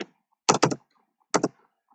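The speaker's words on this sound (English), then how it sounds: "now I will just type the name of Prolog version SWI Prolog." Close, crisp keystrokes on a computer keyboard come in two short bursts, three quick taps and then two more, with silence between.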